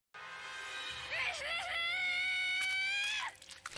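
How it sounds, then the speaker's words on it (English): An anime character in a Stone Ocean episode of JoJo's Bizarre Adventure lets out a long, shrill, wavering scream that rises and holds for about two seconds before cutting off abruptly. "Jolene, how many times are you going to scream FF"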